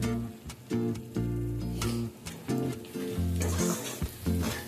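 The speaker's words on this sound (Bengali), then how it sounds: "আবারও মশলাটাকে খুব ভালোভাবে আমাদেরকে কষিয়ে নিতে হবে।" A duck egg curry masala of turmeric, cumin powder, coriander powder and salt fries in a pan, with crackling sizzle and scraping stirs coming in uneven bursts up close over a low thudding background.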